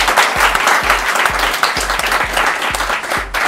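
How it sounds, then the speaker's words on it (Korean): Steady applause from a crowd, loud and continuous for a few seconds with dense clapping throughout, fading slightly at the end. "박수 한번 주시죠 여러분들"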